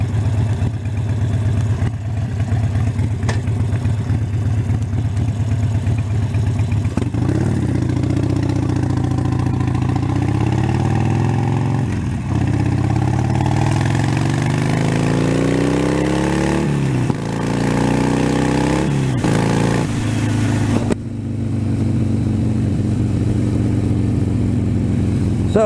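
A motorcycle engine hums steadily and loudly while riding, its pitch rising and falling in several long sweeps as the bike speeds up and slows, with no talk.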